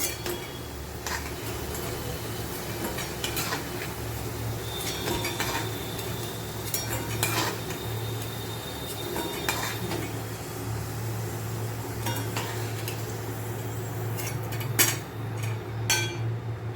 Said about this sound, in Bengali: এবার আলুগুলোও ভাজা হয়ে গেল আলুগুলো তুলে নেবো